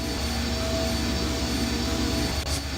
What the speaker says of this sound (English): This engine isn't as ruggedly built as it first looked.